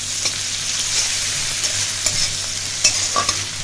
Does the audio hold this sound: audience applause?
no